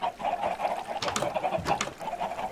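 Chickens cluck repeatedly in a Minecraft egg farm, a steady overlapping run of game-style hen clucks that continues throughout at moderate loudness, with no talking.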